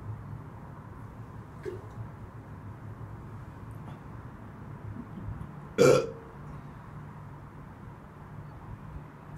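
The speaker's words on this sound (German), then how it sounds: "diese Rülpser, die ihr jetzt durch das Leitungswasser hört, sind doch schon mal ein guter Anfang" A single short burp from someone who has just been drinking tap water rises near the middle of a quiet stretch, with a fainter small throat sound earlier over steady low background hum.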